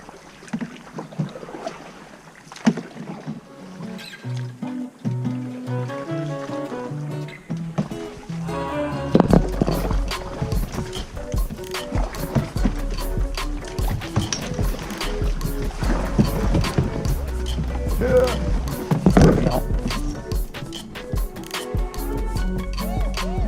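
Canoe paddling through the Everglades: water sloshes and splashes with each stroke, and paddles knock against the hull. Gusts of wind buffet the microphone, getting louder and busier partway through.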